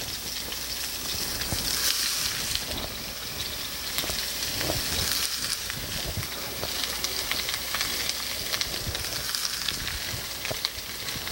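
Onions frying in a few tablespoons of neutral salad oil over medium-high heat make a constant hissing sizzle, steady and fairly loud throughout with no talk.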